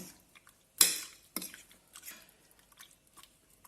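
Ceviche is tossed in a bowl, with a sharp clink of utensil on the bowl, a second softer knock, then faint wet squishing and small taps. Close and quiet, no voices.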